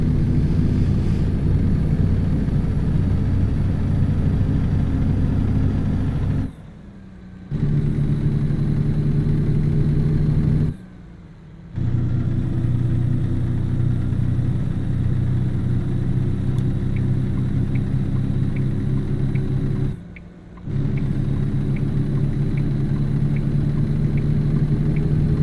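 A heavy truck's engine in American Truck Simulator, hauling a heavy chassis up a road grade in seventh gear: a steady, loud low drone broken by three brief drops during gear shifts, then resuming at a slightly different pitch.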